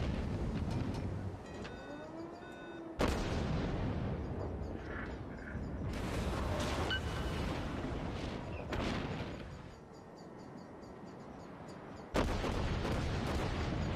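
Heavy naval gunfire in the World of Warships video game, a battleship under fire from two directions: loud booming salvos and explosions crash in repeatedly, with sharp onsets around three, six and twelve seconds over a continuous rumbling battle din.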